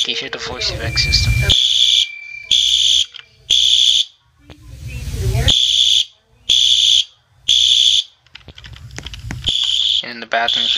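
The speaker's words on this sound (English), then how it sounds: "Here you can hear the voice effect system." A Roblox video game fire alarm voice evacuation system sounds in repeating high beeping bursts, interleaved with a recorded voice announcement; the pulses come in an even rhythm, loud and close.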